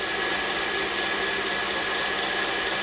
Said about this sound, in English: object is to grind the flats on this large diameter contact wheel down to about there